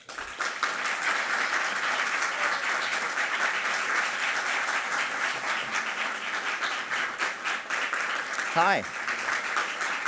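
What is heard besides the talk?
audience applause welcoming the College Board CEO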